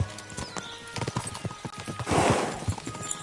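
Horse hooves clip-clopping in the medieval game Kingdom Come: Deliverance 2, a steady run of hoofbeats close by with a brief whinny and some rustling gear, no voices.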